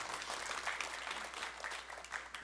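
A church congregation claps at a Sunday afternoon service, a soft, fairly distant patter of applause that swells and dips without a break, with no speech over it.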